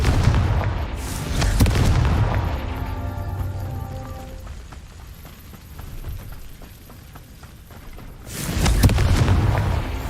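A Confringo spell explosion in the video game Hogwarts Legacy goes off as a booming blast, followed by a quieter rumbling stretch and then a second heavy burst near the end.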